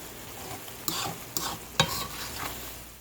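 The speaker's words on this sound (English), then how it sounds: "I'll get this all stirred in together." A spoon scrapes and stirs sauce mix and hot water into a thick, sizzling hamburger mixture in a pan, with a few sharp clinks against the metal over a steady frying hiss.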